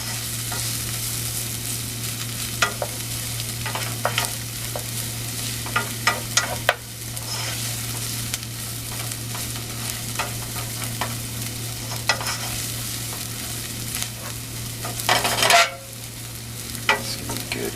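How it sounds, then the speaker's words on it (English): Ingredients sauté in a pan with a continuous soft sizzle under a low steady hum, broken by repeated scraping and clinking of stirring, one louder clatter near the end, with no talking. "We're going to saute these down till they get a little glassy."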